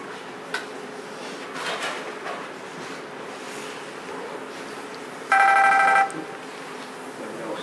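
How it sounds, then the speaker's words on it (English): A short electronic ring tone sounds once for under a second amid quiet room noise and faint movement, then stops. "So now it stops ringing."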